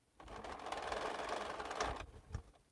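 A sewing machine stitches a quarter-inch quilt seam in one close, continuous run of rapid whirring for about two seconds, then slows and stops with a couple of soft clunks.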